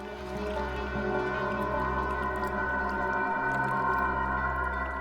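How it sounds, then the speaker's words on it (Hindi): Running water comes through a phone call as a steady muffled rush with a low hum, continuous and unbroken, with nobody speaking. "पानी की आवाज आ रही है सर।"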